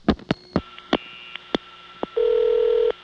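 Ringing on a 1982 Florida digital switch trunk in Ocala: a few short clicks and pulses, then a loud steady ring burst lasting under a second, heard close and alone.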